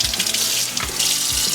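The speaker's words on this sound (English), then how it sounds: "I'm just gonna give this a very quick rinse here" Tap water runs steadily over Starfrit chopper parts being rinsed in a sink, a close, continuous splashing hiss with slight shifts as the pieces move under the stream.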